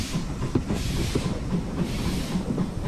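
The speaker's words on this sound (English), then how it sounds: "As we pulled out of Oxenhope, we passed other locos and were soon heading towards Haworth" A heritage train on the Keighley and Worth Valley Railway pulls out of Oxenhope station, with steady clickety-clack of wheels and a continuous rumble and hiss heard up close from aboard.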